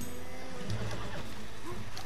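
Horse in Red Dead Redemption 2 giving a brief whinny over a dense, steady bed of game ambience and hoof clatter, the neigh only moderately clear within the busy mix.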